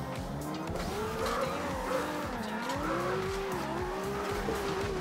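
A Chevrolet Corvette ZR1 drift car of about 690 horsepower in the racing game Forza Horizon 2 slides with steady, wavering tire squeal over a continuous engine drone, loud and sustained throughout.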